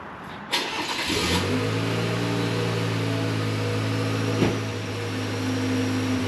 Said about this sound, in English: Let's go ahead and start the truck up and you can see what it looks like.